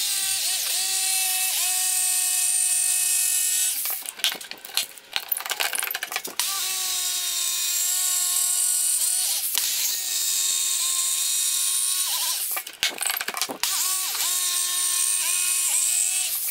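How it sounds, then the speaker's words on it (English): Jigsaw cutting out marked shapes in a pine board for a bench, a loud steady high-pitched whine with harmonic tones, pausing briefly twice as the cut is repositioned, then resuming. "now we'll cut those out with the jigsaw"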